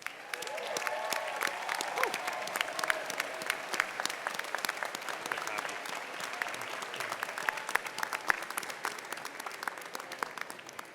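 A university commencement audience gives a long round of applause as alumni stand to be recognized, with many hands clapping steadily and crisp individual claps standing out throughout.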